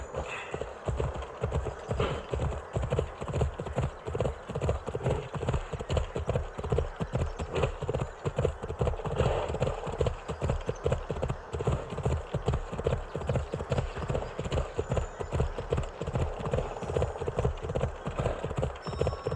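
Horse galloping in Assassin's Creed Odyssey: a steady, rhythmic drumming of hooves that carries on for the whole stretch, close and prominent, with faint background sound and a little talk.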